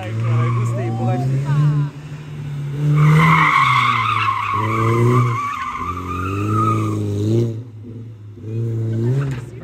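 A car drifts on a public street, its tires squealing in long sustained screeches while the engine revs rise and fall, loud and close, with voices talking over it.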